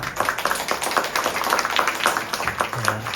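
A Hong Kong audience at a post-race sharing session for a Mt. Fuji 100-mile women's winner claps in a steady broadband patter of many hands for about three seconds, fairly close and without speech.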